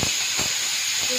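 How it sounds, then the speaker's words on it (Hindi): A kitchen pressure cooker's whistle releases steam in a loud, continuous high hiss, with a few soft thumps underneath. "सीटी बजाया जा रहा है।"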